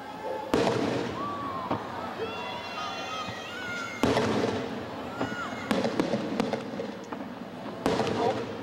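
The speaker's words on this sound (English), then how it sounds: "a collage of colorful fireworks exploded in the night sky at midnight" Fireworks burst at midnight during a Bahamas Independence Day celebration: several sharp, loud booms with crackling tails, spaced a second or more apart, under a continuous crowd hum with scattered whistles and voices.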